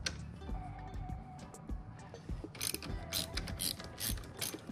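A ratchet with a 10 mm socket loosening a car battery terminal, giving quick close clicking runs of the pawl, faint at first and then sharper and louder in rapid bursts.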